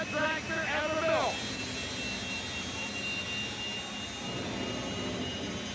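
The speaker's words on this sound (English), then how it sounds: "Drag racing fans, get ready for the most powerful jet dragster ever built." The Green Mamba, a jet dragster at a drag race, roars in a loud, steady engine wash that fills the clip, with a brief voice at the start.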